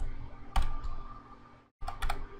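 Computer keyboard keys tapped to enter a command-line path, a few short bursts of clicks around a brief pause, close and moderately loud with no talking.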